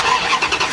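A 1967 Plymouth Barracuda engine catches and roars in a brief, loud, close burst of broadband engine noise with no talk.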